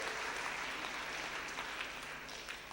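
A church congregation at a Kikuyu Sunday school service applauding, a dense, even wash of many hands clapping together at a moderate distance, sustained without a break across the whole clip.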